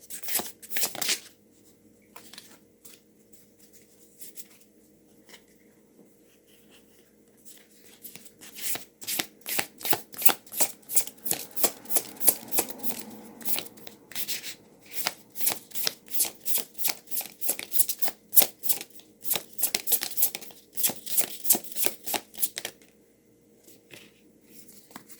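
An oracle card deck is shuffled by hand in repeated bursts of rapid riffling and flicking, close and crisp, with pauses between rounds and no talking.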